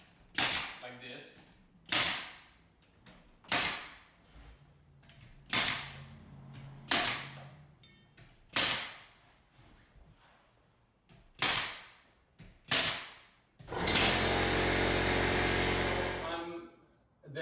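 Hammer blows drive nails at an angle through barnwood boards into a wall, about a dozen sharp, separate impacts spaced a second or two apart at close range, ending in a few seconds of steady, loud, broadband noise.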